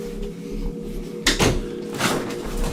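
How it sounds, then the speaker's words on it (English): A door slams shut on its own indoors: a sharp, loud bang followed by a second rattling knock a moment later, with no voices. "The door slams on its own."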